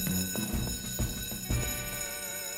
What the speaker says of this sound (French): Pourquoi l'alarme sonne-t-elle toujours quand on est occupé à faire autre chose?